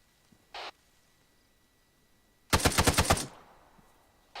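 A squad automatic weapon fires one loud, rapid burst of about eight shots during a ground engagement, preceded by a brief short noise, with quiet between.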